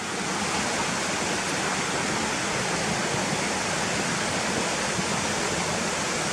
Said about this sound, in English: you hear the river running fast to the right of us